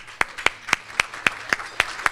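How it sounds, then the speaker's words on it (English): Sparse, slow hand claps at a chamber of commerce luncheon for sponsor Nikki Torres of GISA Credit Union, about eight sharp, evenly spaced claps, close and moderately loud with no talk. "Please give her a round of applause."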